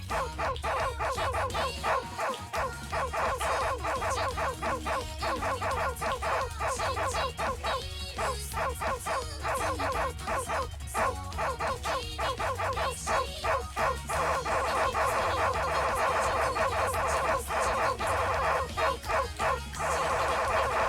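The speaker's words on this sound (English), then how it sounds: "let the dog out" A dog sound effect plays on a livestream: rapid repeated barks and yips with some whimpering, dense and continuous for about twenty seconds, loud and close.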